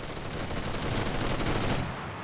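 German machine gun in the Enlisted shooter fired on full auto from a prone position, one continuous dense burst of rapid gunfire lasting about two seconds, loud and close, then cutting off.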